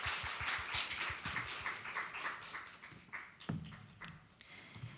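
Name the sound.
audience applause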